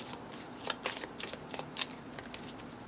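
German Skat playing cards shuffled by hand for divination, giving a close, steady run of soft papery slaps and riffles over a low background hiss.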